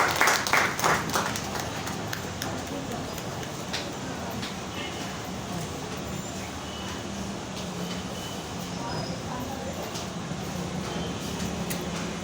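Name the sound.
church congregation clapping hands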